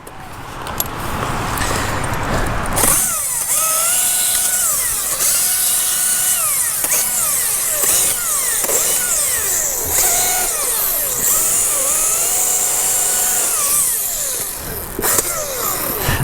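A whining electric chainsaw runs continuously, its pitch rising and falling as it bites through cedar branches, loud and near.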